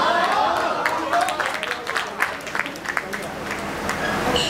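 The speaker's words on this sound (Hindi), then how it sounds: "तो अगर अच्छा लगे तो बार बार लगातार ताली देना" Sustained applause from a crowd at a poetry and entertainment night, dense steady clapping filling the whole stretch with voices talking over it.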